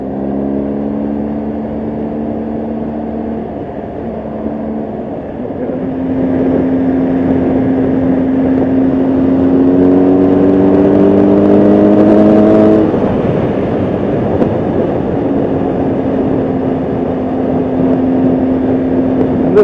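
A 2020 BMW R1250GSA HP motorcycle engine drones steadily while riding, with its pitch climbing in several distinct acceleration pulls through the gears, loud and close throughout with no talking.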